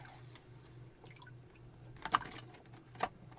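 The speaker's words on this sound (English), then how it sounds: "I got to get my stencils out of the water" Stencils lifted out of water, with faint drips and small wet splashes falling in two or three short bursts over a quiet room hum.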